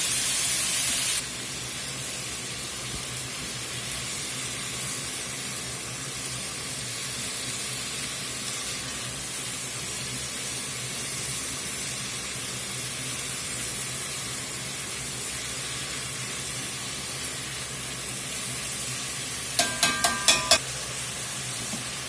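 Ingredients fry in fat in a pan with a steady, even sizzle and hiss that runs unbroken throughout, and a few quick clicks near the end.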